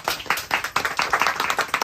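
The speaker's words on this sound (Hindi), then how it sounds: "जोरदार ताली।" An audience at a business seminar claps loudly to welcome a speaker to the stage. Quick, dense hand clapping lasts just under two seconds and cuts off abruptly.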